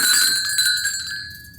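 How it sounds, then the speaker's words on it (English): A loud bell garland of large, non-jingle bells shaken by hand, ringing with clear sustained metallic tones that ring on and slowly decay, near and alone. "This was the only bell garland that they had that wasn't the little jingle bells."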